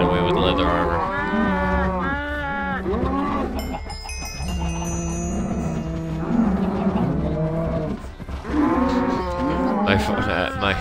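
Several Minecraft cows moo in long, drawn-out calls, loud and close, overlapping in clusters across the scene with a faint background tone.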